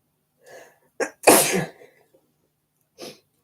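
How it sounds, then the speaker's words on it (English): A single sharp sneeze indoors by a log fire, with a short gasping build-up just before it, then quiet and a small exhale afterwards. "Oh, I'm going to sneeze."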